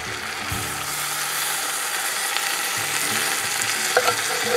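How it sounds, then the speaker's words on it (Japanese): Coconut milk poured into an Indian curry pan holding previously fried chicken, giving a steady close sizzle and frying hiss with stirring scrapes, a brief clink near the end. "ココナッツミルクを入れます。"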